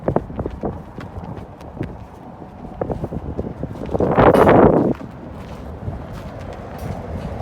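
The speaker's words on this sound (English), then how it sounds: "darn wind" Outdoor wind buffeting a microphone in the Arizona desert near Bouse, a loud roaring rumble that swells for about a second amid lighter crackling handling noise.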